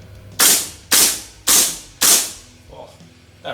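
Gas blowback airsoft M4 rifle, a Golden Eagle GBBR, fires four sharp, evenly spaced shots at close range, each a crisp bolt-cycling crack with a brief metallic ring, followed by a faint mechanical click.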